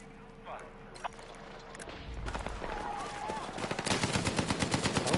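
Gunfire in the shooter Battlefield 6, starting with a few sparse shots and building into dense, close machine-gun bursts over a rumbling battlefield backdrop, with voices shouting in the mix.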